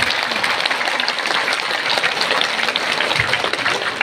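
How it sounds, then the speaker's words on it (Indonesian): Dense, loud applause from the audience at a large outdoor religious lecture in Wasolangka, Parigi, honoring a youth community group, sustained and even throughout. "Tepuk tangan buat mereka."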